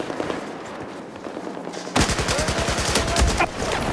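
Rapid automatic gunfire erupts in Battlefield 4 on the Shanghai map, a loud, close burst of shots that follows a quieter stretch of background game noise.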